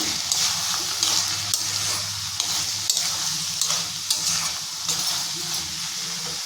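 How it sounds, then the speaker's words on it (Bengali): Vegetables sizzle in hot oil over a high flame while being stirred, with a continuous close frying hiss broken by regular clinks and scrapes of a spatula against the pan. "রান্নাটা হাই ফ্লেমে হচ্ছে ভালো করে মিশিয়ে"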